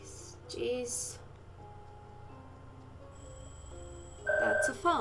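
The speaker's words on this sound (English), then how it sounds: "That's a phone." Telephone in the video game Puzzle Agent 2 rings with short electronic tone bursts toward the end, following a few brief beeps and sparse game sounds over a quiet low hum.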